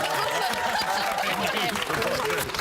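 Studio audience at a Big Brother UK 2013 game segment clapping in a dense, steady wash of applause throughout, loud and close, with cheering and voices mixed into the crowd noise.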